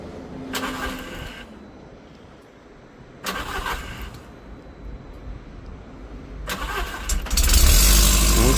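A turbocharged car with a dry, unoiled turbo and a leaking exhaust cranks over in three separate bursts, then catches on the third try and settles into a loud, rough idle, close by.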